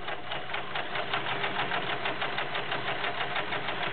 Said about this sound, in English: Three layers of leather with a perfect stitch.